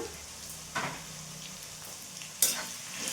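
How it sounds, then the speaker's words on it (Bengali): Salted, turmeric-dusted potatoes frying in mustard oil in a pan over a gas flame, a soft continuous sizzle with occasional stirring scrapes, close and quiet. "লাল লাল করে আলুটা ভেজে নেব।"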